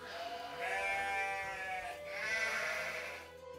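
A flock of sheep and goats bleats in two long, wavering cries, close and fairly loud, with a soft background murmur between them.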